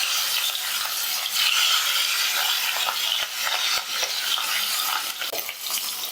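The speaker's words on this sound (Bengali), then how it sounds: "তেল গরম হয়েছে আমি ইলিশ মাছের ডিম পিসগুলো ছেড়ে দিলাম" Pieces of hilsa fish roe fry in hot mustard oil with a loud, dense sizzle that lasts the whole time. Light crackles and occasional utensil taps sound close by, and there is no speech.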